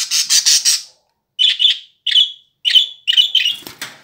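A pet parrot in its cage squawks in a series of sharp, loud, close calls, several short bursts separated by brief pauses.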